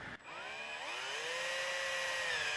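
A power drill bores through aluminum trim into an RV wall, with a steady, close, high whine that climbs in pitch as it spins up and then holds, with no talk.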